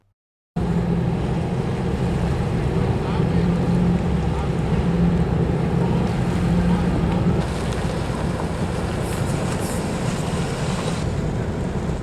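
A ferry boat churns across the water with a constant low engine rumble and wash. Wind buffets close by throughout, and the sound stays loud and steady after a brief silent start.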